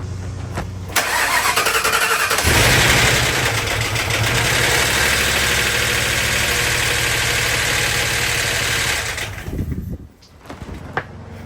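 A Ford Crown Victoria engine, just moved onto a new frame, cranks with a loud rhythmic starter churn for several seconds while trying to catch, then cuts off; wind noise sits underneath.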